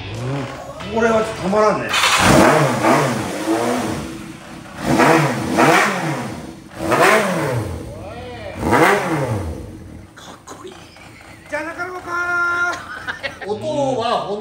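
A Yamaha XJ motorcycle fitted with an Ikazuchi muffler revs in loud, repeated bursts that rise and fall, with people talking between and over the throttle blips.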